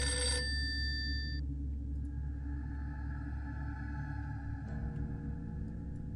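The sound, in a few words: telephone ringing, sound effect in horror radio story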